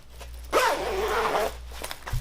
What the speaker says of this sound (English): if you want to zip the shell up